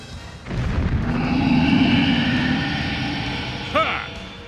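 A bomb-launching machine in Zelda: Skyward Sword sets off a deep, rumbling blast that swells and lingers for a few seconds. A brief metallic whistle or ring comes near the end.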